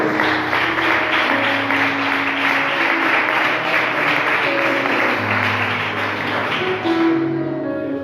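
A church congregation breaks into loud, sustained applause that lasts several seconds over held musical tones, then cuts off abruptly near the end.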